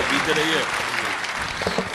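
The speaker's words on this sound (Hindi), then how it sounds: "एक बार हाथ उठाकर जोरदार तालियों से आज के अध्यक्ष को आमंत्रित" Audience applause at a mushaira poetry gathering, a dense wash of clapping mixed with voices and a tonal murmur running under it, steady and moderately loud for a couple of seconds.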